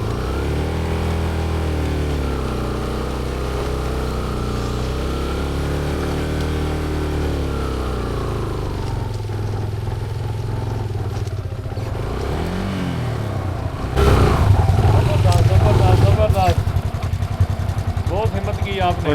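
A motorcycle with replaced non-original clutch plates labors up a steep mountain track on a half-clutch, its engine note rising and straining under talk, then growing louder and rougher near the end.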